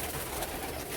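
Pigeons kept by a Hyderabad pigeon fancier coo softly and continuously at close range, a low burbling murmur mixed with the busy rustle of a loft.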